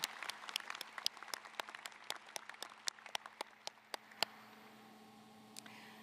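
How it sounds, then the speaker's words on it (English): Applause at a university opening convocation welcoming new students, heard as a thin scatter of sharp, distinct hand claps that thins out and stops, leaving a quiet room hum. "let's please give these students one more round of applause"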